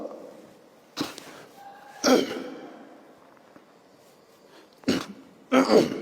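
A man giving a religious lecture coughs and clears his throat in a quiet room, four short bursts spread over a few seconds, close and fairly loud, with faint breathing between them.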